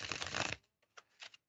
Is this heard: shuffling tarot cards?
yes